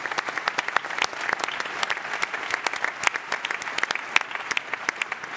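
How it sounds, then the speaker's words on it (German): Audience applause at a public citizens' discussion forum in Flensburg, dense steady clapping from a large crowd throughout, moderately distant and without talk. "vielleicht können Sie ihr nochmal eine kleine Runde Applaus geben"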